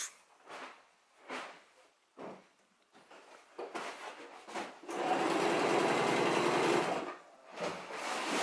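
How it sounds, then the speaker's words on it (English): A sewing machine stitches canvas for a yurt roof, first in short stop-start bursts and then in one steady two-second run, close and clear, with no voices. "We are cutting the canvas, sewing the canvas."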